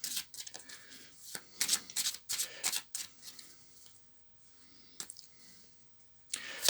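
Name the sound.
shuffling and drawing angel tarot cards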